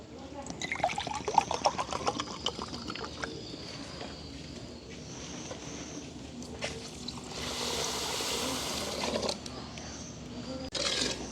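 Half a cup of water trickles and pours steadily into a container for sugar syrup, with a brief fuller rush of liquid near the end and some clattering at the start.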